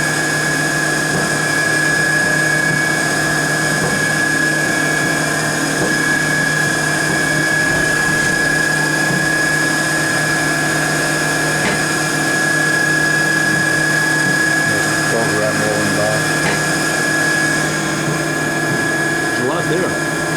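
A Haas Super Mini Mill vertical machining center cuts steadily, a constant loud whine with a high sustained spindle tone and a dense mechanical hum throughout, steady and unbroken for the whole stretch.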